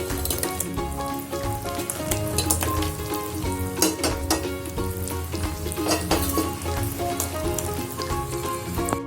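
Fried bread pieces being stirred in a hot pan, with a loud, continuous sizzle of frying and frequent scraping and clattering strokes of the spoon, close by and without talk.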